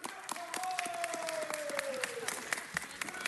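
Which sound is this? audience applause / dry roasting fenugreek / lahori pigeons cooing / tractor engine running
audience applause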